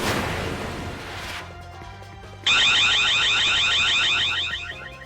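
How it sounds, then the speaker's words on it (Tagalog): A CCTV camera alarm system goes off in a warehouse in Punta Santa Ana, Manila, before dawn; after a noisy start and a lull, a loud, continuous electronic warbling siren holds steady for several seconds. "Biglang tumunog ang alarm system ng CCTV camera sa isang bodega sa Punta Santa Ana, Maynila"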